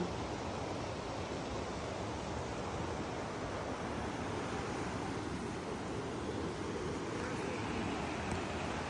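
A mountain river in Yaremcha rushes in a steady, loud, unbroken roar of flowing water, with no voices over it.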